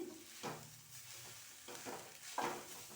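Coconut and jaggery filling, spiced with cardamom, stirred in a pan: three soft scraping sweeps of a spoon over a faint steady sizzle, close and quiet, with no voices.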